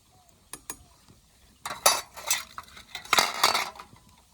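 Goja sweets stirred in a pot of hot mustard oil, a metal spoon scraping and clinking against the pan in a few short bursts, close by, with a faint sizzle beneath.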